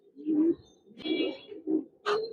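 Giribaz pigeons coo in a loft, giving a few short throaty coos at close range, separated by brief pauses.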